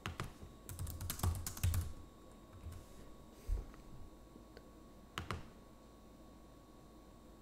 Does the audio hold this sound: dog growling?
no